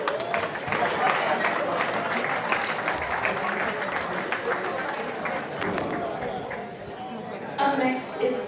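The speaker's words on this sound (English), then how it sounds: "One big applause for Team Finland." A crowd at the European Youth Championships 2021 opening ceremony in Tilburg, Netherlands applauds Team Finland, steady clapping mixed with crowd chatter and voices, thinning out near the end.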